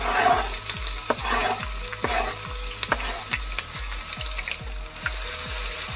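Onion frying in hot palm oil in a clean pan, a steady close sizzle with crackling pops, a rhythmic low mechanical ticking running beneath throughout.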